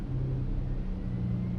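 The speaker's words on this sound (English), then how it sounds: "I might just put the engine on for a minute." A Porsche Panamera e-hybrid's petrol engine runs at a steady low idle rumble, heard from inside the car at night, fairly quiet and even.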